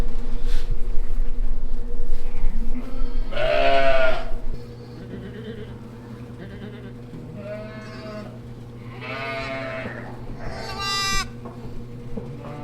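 Baby lambs and sheep bleat repeatedly at close range on a farm, several separate calls over a steady low hum, with some rumble early on.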